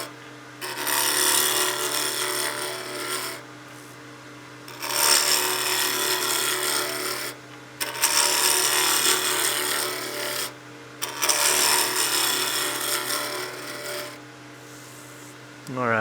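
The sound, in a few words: wood lathe turning a wooden piece at about 2200 RPM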